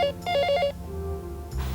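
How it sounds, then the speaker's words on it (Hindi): A telephone ringing in a Hindi television serial scene, a short burst of rapid electronic trills, then a pause and a low hum as the ring starts again. "फोन उठाओ राधा"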